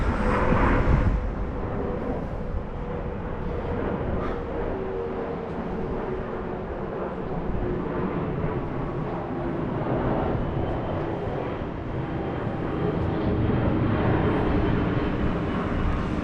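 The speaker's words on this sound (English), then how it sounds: "Hold on, I'll wait for the plane." A plane passes over a riverside spot in Richmond upon Thames, London, as a steady broad engine roar that holds loud and even through the whole stretch with no talking.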